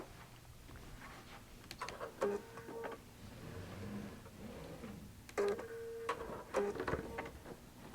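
A QBOT V3 quilting robot stitching decorative quilting inside a circular appliqué block, with quick rhythmic mechanical bursts of needle ticking separated by quieter pauses over a low machine hum, fairly faint.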